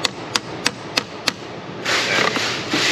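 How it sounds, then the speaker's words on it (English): Hammer blows drive bolts into an alternator bracket on a Duramax diesel engine, five sharp evenly spaced metallic strikes up close, followed by a louder steady whir of machinery. "I will hammer my bolts in."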